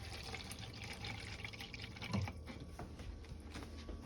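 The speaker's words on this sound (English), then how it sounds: "finally, we're going to add a quarter cup of water" A quarter cup of water is poured into an Instant Pot holding cabbage, giving a steady close liquid trickle and splash with a brief heavier gush midway.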